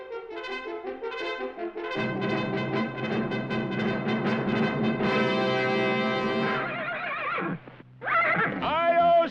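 Silver, the Lone Ranger's horse, neighs loudly in a long, shrill whinny over a swelling orchestral fanfare, followed by a second rising neigh near the end.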